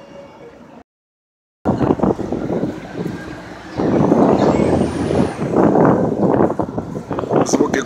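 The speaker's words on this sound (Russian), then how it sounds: "Звуки города." Busy street traffic in central Philadelphia, with heavy trucks rumbling past and a rising air-brake hiss. The loud, broadband roar swells and builds after a brief dropout, with wind buffeting the microphone.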